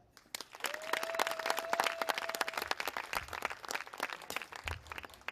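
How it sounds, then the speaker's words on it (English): Staff party audience applauding with claps and cheers, a sustained burst from a sizable crowd in a hall, with a held tone running underneath for a couple of seconds near the start. "But just by a round of applause"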